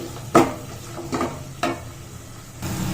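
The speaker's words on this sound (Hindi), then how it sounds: "पियाज को मु हल्का गोल्डन ब्राउन कलर हबा तक फ्राई करिवि" Chopped onions fry in a pan for paneer dum biryani, a soft sizzle under three distinct scraping strokes of a spoon stirring them, then a final scrape near the end.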